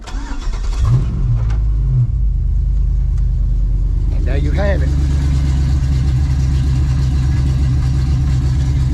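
An LS V8 swapped into an OBS Ford truck cranks briefly, catches and settles into a steady, loud idle that continues throughout, with someone speaking over it near the end.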